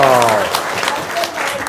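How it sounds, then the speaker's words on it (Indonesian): Audience clapping breaks out at a talk, with a voice trailing off at the start and a clear burst of hand claps running throughout, close and fairly loud. "Tepuk tangan dong."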